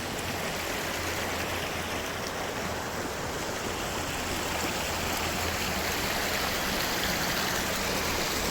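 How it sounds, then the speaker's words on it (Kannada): Flowing stream water rushing continuously in the open, a dense, even roar with no pauses, close and fairly loud, with no voices. "ಈ ಹರಿಯೋ ನೀರು ಸೂಪರ್ ಫೀಲ್ ಅಂತಾರೆ"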